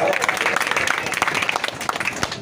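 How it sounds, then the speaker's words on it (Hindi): A crowd at an oath-taking ceremony claps steadily throughout, a dense patter of applause with voices mixed in underneath. "उनका भी तालियों से स्वागत किया जाए"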